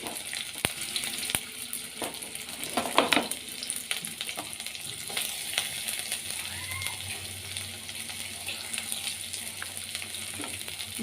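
Chopped onions sizzle in hot oil in a kadai already seasoned with cumin, cloves and cinnamon, a steady close frying hiss with occasional clinks and stirring scrapes, no voices.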